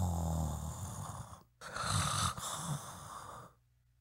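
A voice imitates loud snoring in a church teaching setting, two rough, rasping breaths, the second longer, then a quiet tail.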